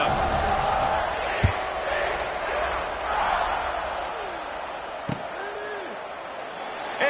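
Stadium crowd roaring steadily at kickoff in a Madden 23 football video game, a broad sustained cheer with a couple of sharp thuds and a faint whistle-like tone, and a commentator's voice briefly over it.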